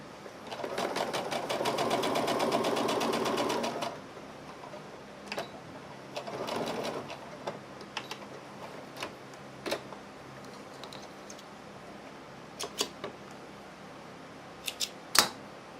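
A sewing machine stitches fabric pieces together end to end, running in a fast steady burst for about four seconds, then a shorter run, followed by scattered clicks and taps.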